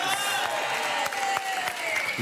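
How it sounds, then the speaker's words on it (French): A television dating game show audience applauds to welcome the couples, a dense, steady wash of clapping from a crowd that holds evenly throughout, with a faint tonal music line underneath. "Eh bien, on vous applaudit, soyez les bienvenus."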